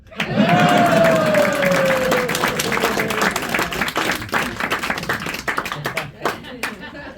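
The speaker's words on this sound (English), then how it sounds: "if you did this long enough, people would clap" An audience at a magic show bursts into clapping and some cheering, a rising wave of hand claps that starts full, then thins into scattered individual claps, with a whistle-like tone and voices heard early on.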